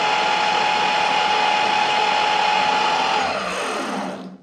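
A chainsaw motor fitted to a petrol mower converted to battery power whirs at a steady high pitch for about three seconds, then winds down and stops.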